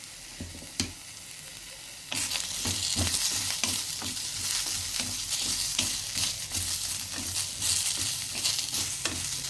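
Grated coconut and onions frying in a pan with cumin and sesame seeds for aloo kofta curry: a loud, continuous crackling sizzle that swells after a quiet start, broken by regular spoon scrapes and knocks.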